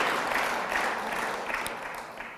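An audience at a lecture breaks into applause, a close, dense wash of many hands clapping that holds steady and then slowly tapers off.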